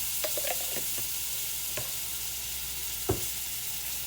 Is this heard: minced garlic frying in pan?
yes